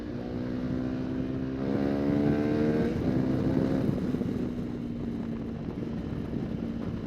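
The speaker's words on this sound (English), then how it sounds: "See if we can push the revs on this" A Honda CRF300L Rally motorcycle fitted with a Yoshimura RS4 exhaust and aftermarket ECU revs steadily, its engine drone rising and falling in pitch as it pulls under load, loud and close without talk.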